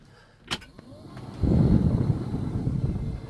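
Cab blower motor of a Case IH MX120 tractor switching on, a steady low whooshing fan rumble rising after a click and continuing evenly, with a faint voice briefly nearby.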